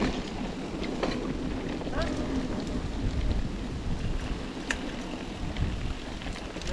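Rain falling on a mountain bike trail at Post Canyon, Hood River, Oregon, a steady hiss mixed with wind rumble and riding noise, with faint voices.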